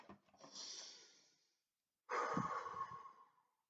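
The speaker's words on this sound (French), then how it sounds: "On va respirer ensemble." Two slow deep breaths taken during a calm guided moment, first a long soft inhale and then, after a short silence, a fuller exhale. Quiet and close, with no talking.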